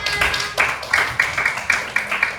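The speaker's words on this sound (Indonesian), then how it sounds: "tepuk tangan untuk kita semuanya" A classroom of students clapping together after a lesson on number patterns, a quick rhythmic burst of hand claps in a roughly steady beat, fairly close, with faint background voices.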